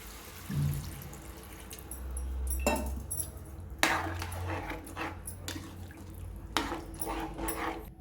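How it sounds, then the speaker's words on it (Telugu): Water being poured into a potato and pea curry in a pan: splashing and gurgling pours in several bursts, with a low rumble beneath and occasional clinks, close and moderately quiet. "ఇప్పుడు ఇందులో వాటర్ వేసుకోవాలండి"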